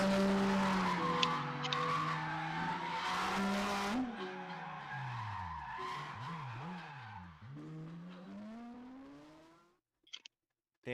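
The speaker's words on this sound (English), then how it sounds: "he made us listen to the whole quarter-mile drag" A roaring drag race car engine revs hard over a quarter-mile run as tires screech and skid, pitch swooping up and down, then fades out with a few brief clicks.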